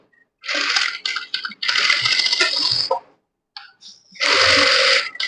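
A sewing machine stitches the shoulder seam of a lined blouse in quick rattling bursts, running for about a second, pausing, then running again in several short spurts close up.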